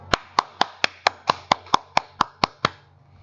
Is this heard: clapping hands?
yes